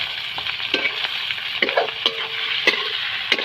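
Chicken goes into browned onions for wachipa, sizzling in the pan while a spatula scrapes and clacks against the metal several times.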